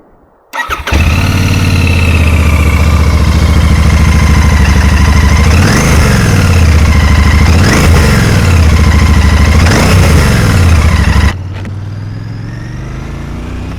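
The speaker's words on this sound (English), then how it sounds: "Let me start her up so you can have a bit of a listen." A Royal Enfield Bear motorcycle engine cranks and fires up at close range, settling into a loud, steady idle with three quick throttle blips rising and falling before it cuts off near the end.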